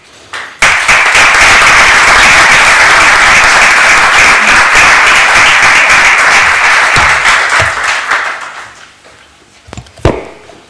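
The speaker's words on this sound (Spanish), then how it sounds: "les pido un aplauso de bienvenida" An audience at a lecture on the poet Miguel Hernández and bullfighting breaks into sustained, loud welcoming applause that holds steady for several seconds, then thins out into a few scattered claps near the end.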